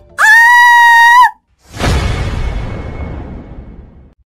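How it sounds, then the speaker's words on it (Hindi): A woman in an animated horror story lets out a single loud, piercing scream lasting about a second, followed by a crash and a fading rumble. "जोरों से चीखने लगी।"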